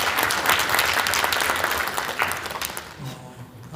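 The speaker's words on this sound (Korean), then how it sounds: "좋은 발표 주신 신정님께 큰 박수 부탁드리겠습니다." A symposium audience at a medical conference applauds after a presentation, with sustained clapping that thins and fades toward the end.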